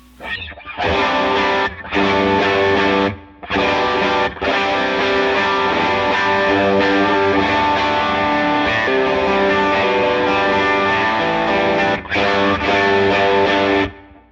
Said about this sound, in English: Here's a driven sound.